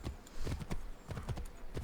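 Horse hooves clip-clop steadily in Assassin's Creed III, a brisk, even rhythm of hollow thuds at moderate distance, fairly faint and continuous with no talking.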